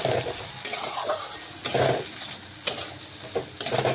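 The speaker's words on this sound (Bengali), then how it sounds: "নাড়াচাড়া করে মিশিয়ে একটু আলুটা কষে নিচ্ছি" Potatoes coated in poppy seed and mustard paste are stirred in a pan, with repeated scraping strokes of a utensil every second or so over a soft frying sizzle.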